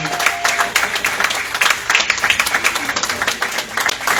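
A church congregation applauds together, steady dense clapping with crowd noise throughout, fairly loud and close.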